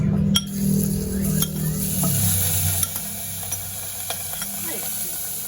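Pork dropped into a hot pan for menudo sizzles and hisses steadily, with scraping stirs and light clinks of a utensil against cookware close by.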